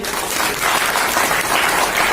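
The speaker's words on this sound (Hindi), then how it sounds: "एक बार इन लोगों के लिए तालियां बजाइए" A seminar crowd claps steadily, a dense patter of applause at close range lasting a couple of seconds.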